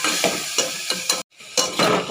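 Tomatoes and onions fry on high flame while a spatula stirs them in a pan: rhythmic scraping strokes over a bright sizzle, with a brief silent gap midway.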